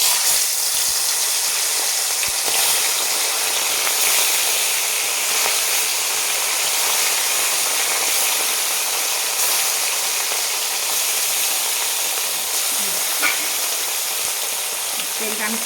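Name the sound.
fish being fried in hot oil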